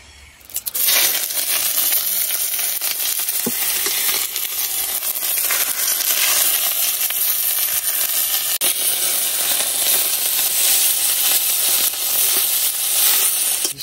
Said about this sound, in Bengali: এখন এই কচু পাতার ভিতরে শীতল গুলা দিয়া মুড়াইয়া তারপরে ভাজে নিয়াম।